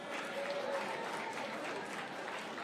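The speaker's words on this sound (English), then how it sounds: "Round of applause for Ophir." Applause from a crowd at a Jewish heritage reception hosted by the mayor at City Hall, a steady, dense clapping that holds evenly throughout with some voices mixed in.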